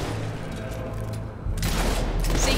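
Rifle shots ring out in the video game Fable 3, a burst of loud cracking gunfire with a sharp onset partway through, followed by dense echoing noise.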